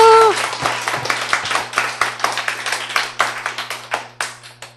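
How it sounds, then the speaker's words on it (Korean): An audience at a 218th-class alumni gathering claps with sharp, distinct hand claps that settle into a loose, fairly steady rhythm, close and clear, with no voices on top. "박수 쳐 주시기 바랍니다."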